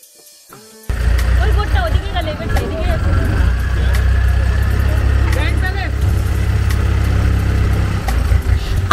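Motorboat engine on a Bangkok canal starts up and settles into a loud, steady low drone after a quiet moment, with people talking over it and a few sharp knocks.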